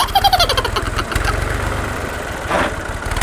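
A tractor engine runs in a village, its low, rhythmic chugging throb steady and close, with no voices over it.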